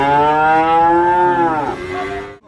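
A cow at the Nglangon livestock market in Sragen, Central Java, gives one long, loud, close moo that sustains steadily and then drops off at the end, with no voices over it.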